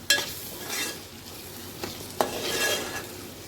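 Stirring and sautéing onion with turmeric and kokum in a pan for a dry shrimp dish, a soft steady sizzle with a few sharp spatula scrapes against the pan, close and alone without talk.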